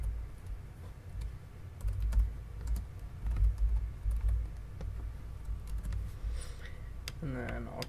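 Quiet, fast keystrokes on a small netbook keyboard patter steadily under a low room hum, with a brief voice surfacing near the end.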